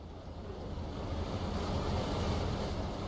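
Steady wash of river water and wind along the River Thames on a cold February afternoon, with a low boat rumble underneath, continuous and fairly close, no voices.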